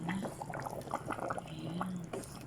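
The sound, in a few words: stirring potatoes in a cooking pot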